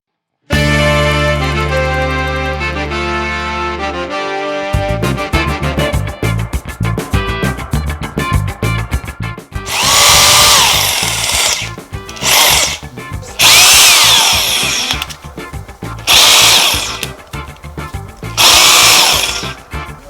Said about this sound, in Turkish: Şimdi bu yeni nesil makineyi çalıştıralım hep beraber sesini duyalım